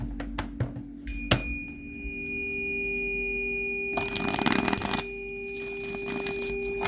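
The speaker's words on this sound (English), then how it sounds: "Shuffle 5 times." A few sharp clicks and taps, then two quick rattling riffles of a tarot or playing card deck being shuffled, over a steady electrical hum.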